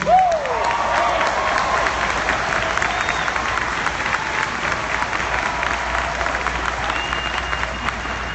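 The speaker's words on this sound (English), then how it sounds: "Clap your hands like that's the truth." Audience clapping hands at a motivational homecoming event, a loud sustained wash of applause from a large crowd that continues evenly throughout, with a brief vocal whoop at the very start.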